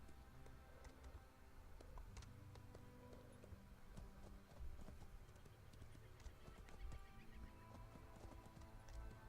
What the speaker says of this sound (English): I like the sound of the horse's hooves on like the pavement